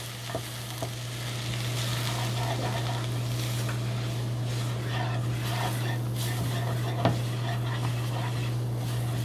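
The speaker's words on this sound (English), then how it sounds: "sprinkle in the flour. And then we're going to mix that for about a minute" Flour being stirred into a pot of chicken stew, with a steady low sizzle and scraping spoon movements throughout, a few soft clinks of utensil on the pot, no one talking.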